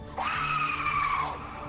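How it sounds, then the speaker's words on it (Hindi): A ghostly chhalava in a Hindi horror cartoon lets out a loud, piercing scream, a single sustained wail that rises sharply, holds, then fades after about a second. "फिर अचानक छलावा ने एक तेज चीख मारी"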